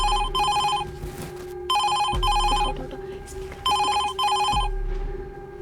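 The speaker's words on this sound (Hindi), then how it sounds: "फोन भी आ रहा है उसका।" A telephone rings with an incoming call in repeated electronic bursts, three ring cycles in steady rhythm, clear and close, with faint background sounds between rings.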